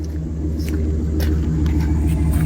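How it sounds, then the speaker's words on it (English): A Chevy Express van's V8 idles with a deep, steady exhaust rumble, loud and close, holding an even throb throughout with no voices. "I love the sound of these V8s, right? It's a V8."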